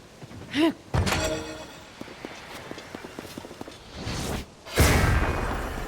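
Time bomb in Tears of the Kingdom: scattered thunks and footstep-like knocks, then a sudden loud burst near the end that trails off.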